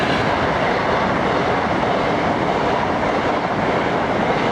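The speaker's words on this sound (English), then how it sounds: "with the busy railway just behind me" A train rushing past on a busy railway right behind a village church, a loud continuous roar of wheels and carriages filling the whole stretch, close by, with no voices.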